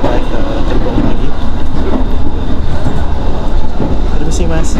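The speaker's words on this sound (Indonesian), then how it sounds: "kereta api Jakarta Tingkir yang kunaikin persiapan melintas langsung di stasiun Cikampek" A passenger train, the Jakarta–Tingkir service near Cikampek station, rumbles steadily along the rails, with a constant loud low roar and faint rhythmic clatter from the wheels, heard from inside the carriage.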